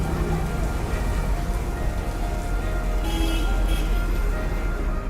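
Steady rain falls continuously, a dense hiss with scattered drops, and no voices.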